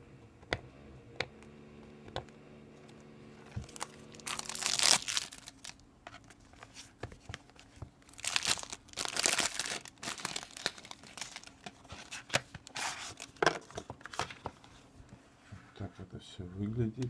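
A parcel holding a Berserker MTL vape tank is torn open, with a voice speaking briefly at the start. Loud, close crinkling and ripping of packaging follows in irregular bursts, broken by small clicks and pauses.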